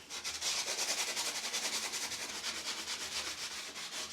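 A brush scrubs grime from an old house surface with a fast, even back-and-forth rasp, steady and close throughout.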